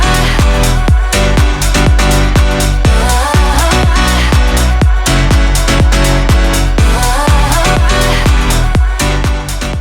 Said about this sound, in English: So the first idea I had was to use a vocal sample